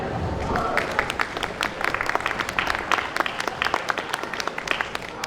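Audience applause at the Tucson Japanese Festival main stage, a steady crowd clapping that continues throughout, dense and moderately close, with scattered individual claps standing out.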